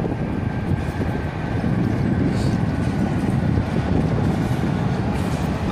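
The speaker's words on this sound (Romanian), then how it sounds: "e din ăla tren cu marfă, marfar" A freight train rumbling past near a storm-littered park, a continuous loud low roar and rattle of wagons that holds steady for several seconds with no talk over it.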